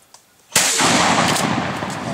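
A single loud, close shotgun blast during a youth waterfowl hunt in Mississippi, a sharp crack followed by a long, rolling outdoor echo.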